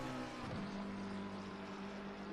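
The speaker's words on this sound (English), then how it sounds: "So you can hear the beautiful roar of that McLaren engine." A McLaren GT3 race car at the Indianapolis circuit gives a sustained engine roar with a quick downward pitch sweep early on, then a steady distant drone.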